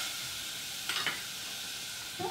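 Spinach sizzles in a pan with a steady, close frying hiss throughout, punctuated by a couple of brief scraping stirs.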